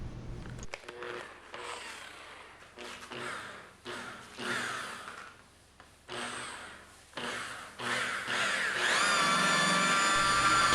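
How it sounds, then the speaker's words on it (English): Variable speed buffer with a wool pad, used for wet sanding and polishing car paint, whirs close in uneven bursts that rise and drop as it works, ending in a sustained high-pitched whine. "I'll be using a wool pad on a variable speed buffer."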